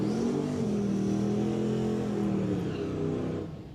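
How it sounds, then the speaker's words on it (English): A turbocharged wagon at a drag racing event, its engine droning loudly and steadily with pitch rising and falling as boost spools, fading slightly near the end. "Sound like a single turbo wagon over here. Maybe a dual turbo wagon, but I'll tell you what, it you can definitely hear the boost coming up and coming down."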